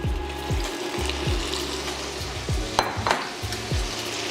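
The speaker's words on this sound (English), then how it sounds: "we're gonna go ahead and put our andouille sausage in there so that we can brown it" Andouille sausage browning in olive oil in a pan, a steady sizzle broken by repeated low scraping knocks as the pieces are stirred and turned, with no talk.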